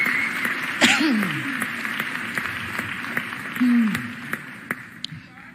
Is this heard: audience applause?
yes